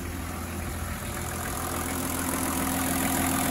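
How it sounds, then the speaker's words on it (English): A Range Rover P38A with the BMW 2.5-litre diesel engine and automatic gearbox idles steadily, an even, low mechanical hum heard close and alone, without talk. "we'll go and show you the engine"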